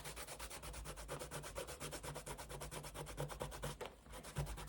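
Rhythmic, close back-and-forth rubbing on an art journal page makes a faint, even scratching pattern with a brief pause near the end.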